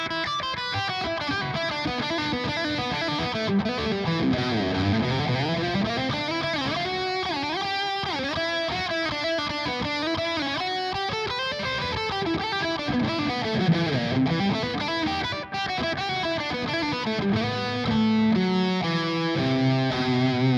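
Electric guitar played through a Peavey Invective MH amp with reverb and delay added, a continuous distorted stream of chords and melodic runs at steady loudness with no talk.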